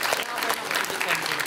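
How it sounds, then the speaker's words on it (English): Audience applause at a games event, a steady wash of clapping from a crowd that fills the whole moment without pause. "all we can do is have a round of applause for having another go"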